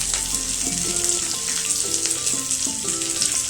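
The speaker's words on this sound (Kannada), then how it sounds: "ಒಂದು ಒಗ್ಗರಣೆ ಕೊಡೋದಕ್ಕೋಸ್ಕರ ಒಂದು ಈರುಳ್ಳಿ, ಕರಿಬೇವಿನ ಸೊಪ್ಪು, ಸಾಸಿವೆ, ಹಿಂಗು ಹಾಕಿ ಒಗ್ಗರಣೆ ಮಾಡ್ಕೊತಾ ಇದ್ದೀನಿ" Onion, curry leaves, mustard seeds and asafoetida sizzle steadily in hot oil as a tempering for a buttermilk curry, a close, continuous frying hiss under soft background music.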